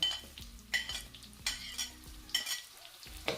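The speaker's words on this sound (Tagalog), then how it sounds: "Just keep mixing until the flavor is induced." Pork and onion fry in a pan while a utensil stirs and scrapes in repeated strokes over a low continuous sizzle, fairly close and without speech.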